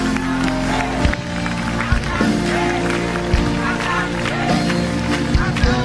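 A crowd applauding a woman pastor introduced as a queen from Côte d'Ivoire at a religious crusade event in Haiti, dense sustained clapping mixed with loud voices and cheering, fairly close and continuous.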